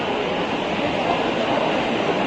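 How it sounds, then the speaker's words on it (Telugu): An underground metro train in Delhi rumbles with a steady, loud broadband roar of wheels and carriage noise, heard close from inside throughout, with no talk. "బాగుంది మెట్రో."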